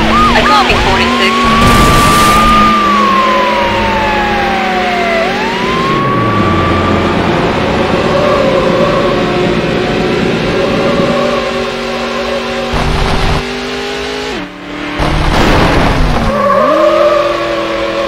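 A black Dodge Viper races in the video game Need For Speed Hot Pursuit 2, with a loud continuous engine whine rising and falling through gear shifts, tire skids and police sirens.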